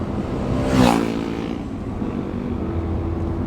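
A BMW M3 F81 Touring engine hums low and steady, swelling briefly in a rising rev before settling back into a quiet, constant exhaust drone.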